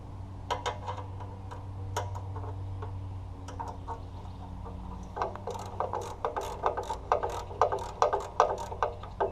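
A ratchet wrench clicks in quick bursts while bolts are removed from an air compressor, sharp close metallic ticks that grow louder and denser toward the end over a low steady hum, with no talk.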